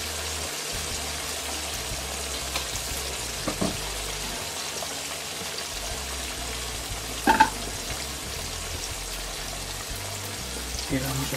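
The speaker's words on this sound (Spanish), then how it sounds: "primero echamos una patata, que ya está bien caliente el aceite" A potato slice sizzles in hot oil in a frying pan, a steady soft crackle and hiss with occasional sharper pops, heard close and continuous.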